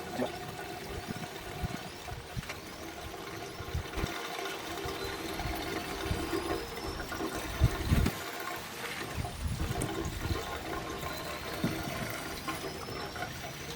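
Gasoline pours and trickles into the fuel tank of a 1966 Ford Mustang through a modern filler neck, a steady close liquid splash with a few louder gurgles and knocks.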